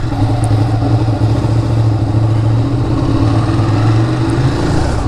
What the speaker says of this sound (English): You hear how rough this bike idles?